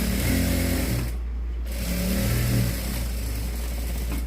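A sewing machine stitches a blouse lining with a steady, continuous mechanical whir, close and fairly loud, running without pause throughout.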